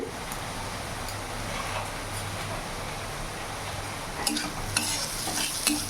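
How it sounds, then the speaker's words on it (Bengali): Chhana curry being stirred in a pan with turmeric, salt and Kashmiri chili powder, a steady low sizzle under repeated scraping and stirring, with a few sharper clicks of the spoon toward the end. "ভালো করে নাড়াচাড়া করে মিশিয়ে নিয়েছি"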